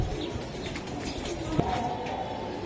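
Giribaz pigeons, Indian homers, cooing among other birds in a loft or market, a low steady murmur of coos under faint background chatter and chirps.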